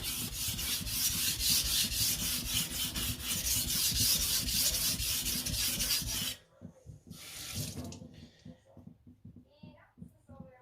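A knife blade is ground on a sharpening stone to raise a burr along the edge, tip and belly. The grinding rasps steadily and loudly for several seconds, then stops, followed by a few quieter, scattered scrapes and knocks.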